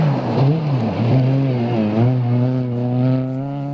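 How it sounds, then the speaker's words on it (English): A loud rally car engine revs up and down through gear changes on a rutted rally stage, its pitch rising and falling, heard up close and alone. "You see the gearbox, the noise the car's making."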